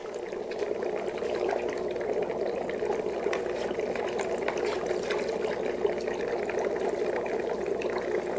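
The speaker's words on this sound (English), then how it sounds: "you're just going to stir those worm castings right into the water." Worm castings stirred into water for worm tea, giving a continuous watery swirling and trickling churn with faint scraping, steady and close throughout with no talk.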